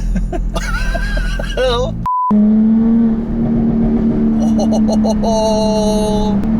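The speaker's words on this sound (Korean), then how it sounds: "배기음 상당히 진짜 좋습니다" A Jaguar F-Type 3.0S sports car exhaust holds a steady, loud engine drone close by. Brief electronic beeps and a tone come before it, and voices talk over parts of it.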